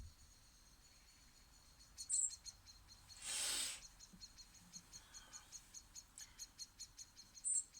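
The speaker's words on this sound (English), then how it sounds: "Something's irked a blackbird." A blackbird sounds a few sharp, high alarm notes in the distance, scattered clicks and chips over a quiet steady insect-like background, with one louder burst of noise midway.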